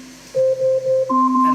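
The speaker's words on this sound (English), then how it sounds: "And that sound is the timer going off." A few sharp electronic beeps repeat at steady intervals, then shift to a higher two-tone pattern, close and fairly loud.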